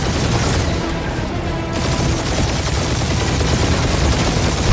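Loud, continuous rapid gunfire from a firefight in Marvel's Guardians of the Galaxy, a dense wall of bursts and booms with no pauses, close and overwhelming.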